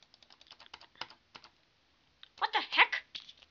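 Rapid computer keyboard and mouse clicks while playing a video game come in quick bursts, sparse taps at first, then a denser, louder flurry of clicking.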